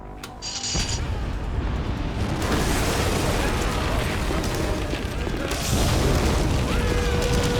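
A ship exploding in Metal Gear Solid 2, a sharp opening burst followed by a sustained roaring, rumbling blast that swells again near the end, loud and dense with no talk over it.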